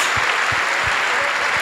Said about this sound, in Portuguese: Vamos dar um aplauso aí decente,